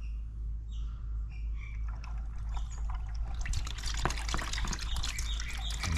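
Engine oil drains from the drain bolt of a KTM 1290 Super Adventure S motorcycle into a held container, a steady liquid pour that grows louder and splashier partway through, heard alone without speech.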